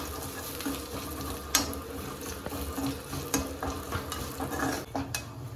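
Ginger and garlic sauté in a pan over a low flame for a fried chicken varuthathu, making a continuous soft sizzle broken by occasional scrapes and clinks of stirring.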